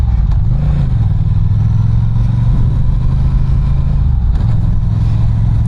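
Honda Rebel 1100T motorcycle ridden around town, its engine rumbling steadily and close with slight rises and falls in revs, plus wind buffeting over the whole stretch.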